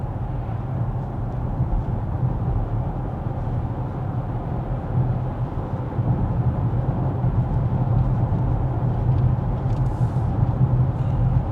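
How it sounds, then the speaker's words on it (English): Steady low tire roar and road rumble inside a Polestar 2 electric car driving along, a constant broadband hum with no engine note and no talking. "Like all EVs, you hear the tires."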